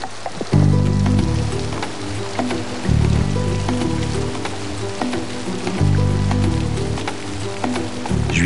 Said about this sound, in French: Après 6 mois de sécheresse, il recommence à pleuvoir.